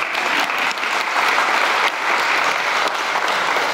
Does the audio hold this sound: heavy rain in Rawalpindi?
no